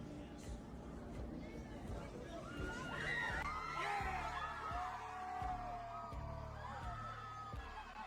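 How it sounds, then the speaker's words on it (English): Crowd outside a courthouse cheering and shouting at a distance, a swelling babble of excited voices with scattered whoops and thumps, faint and somewhat muffled. "And you hear people cheering outside the courthouse,"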